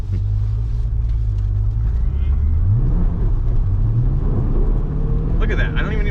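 A 2020 Chevrolet Corvette pulls hard under acceleration, its exhaust droning loud and low with rising engine pitch shifts from inside the cabin, while a person talks over it.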